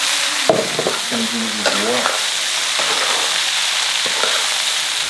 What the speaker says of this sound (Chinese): 香肠稍微炒一下，下这个葱豆